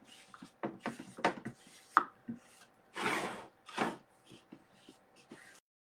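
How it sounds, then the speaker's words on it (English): Short rubbing and scraping strokes as a squeegee presses a vinyl decal onto a wooden sign, in irregular bursts with brief pauses, close and fairly quiet. "I'm going to take my squeegee, and I'm just going to press it down over here."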